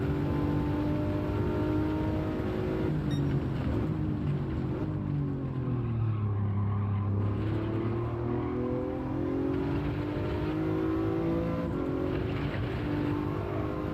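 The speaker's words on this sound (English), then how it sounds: "Let me see what happens if I rev this out now." Race car engine in Gran Turismo 7, a Gr.4 car at Bathurst, revving steadily with rising and falling harmonic tones for the whole stretch, loud and continuous without talk.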